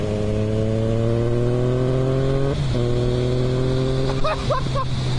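A Yamaha XSR900 motorcycle engine drones at a steady pitch under throttle, loud and close with wind, dipping briefly mid-way before holding again.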